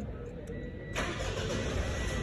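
A 2024 Mitsubishi Montero Sport started by push button, the engine catching about a second in and settling into a steady close hum.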